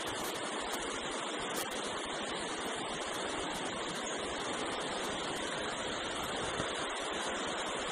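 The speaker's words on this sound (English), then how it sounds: "next to a river." Steady broadband rush of a river flowing beside redwood trees in Pfeiffer Big Sur State Park, a continuous close water roar with no breaks and no voices.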